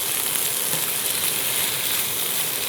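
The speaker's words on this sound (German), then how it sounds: "Wir lassen unsere Gemüsestücke jetzt erstmal eine Weile auf höchster Stufe zusammenlaufen" Vegetable pieces and tomatoes sizzle steadily in a pan over the highest heat, a dense, even hiss that stays loud and close with no talking.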